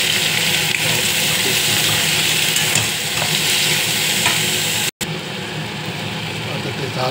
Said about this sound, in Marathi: तर त्यात टाकूया आलू.